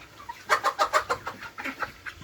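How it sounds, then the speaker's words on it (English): A classic brown laying hen, such as a Warren or ISA Brown, gives a quick run of soft, close clucks in a rhythmic burst. "here we have the classic brown hen"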